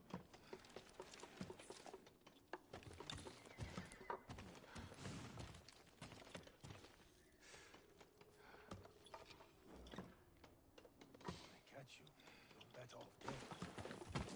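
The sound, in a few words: horse neighing and hooves clip-clopping in video game Ghost of Tsushima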